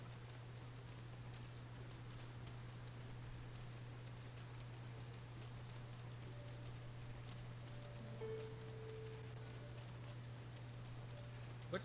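Heavy rain pours steadily in the video game Dragon's Dogma 2, a constant broadband hiss with a low steady hum beneath and a faint tone near the end.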